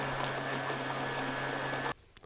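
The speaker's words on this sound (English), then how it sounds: "Blend well." A steady, loud whirring hum of a blender running continuously while making homemade fertilizer with water, then cutting off abruptly near the end, leaving quiet with a faint click.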